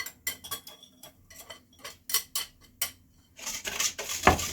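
Utensil clinking against a bowl while mixing cassava flour batter, a series of quick close taps and scrapes in an irregular rhythm, busier and louder toward the end.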